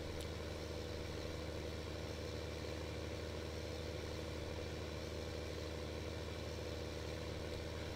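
A Case tractor engine idles in Farming Simulator 15, a steady low rumble and drone that holds constant throughout without any change in pitch.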